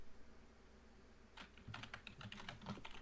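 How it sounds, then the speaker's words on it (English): Typing on a computer keyboard: quiet room hum at first, then a rapid run of soft, close key clicks over the last half of the stretch, with no talk. "he's typing up his manifesto"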